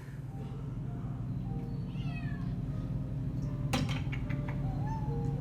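A cat meows several times, short wavering cries scattered over a low, continuous hum, with a brief clatter partway through.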